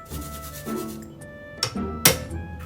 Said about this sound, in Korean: 마늘을 갈아요